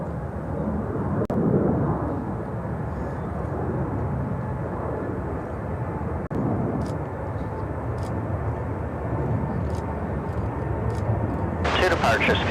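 An airliner departs Chicago O'Hare, a low rumbling engine roar that swells and fades in waves beneath ongoing conversation and radio chatter.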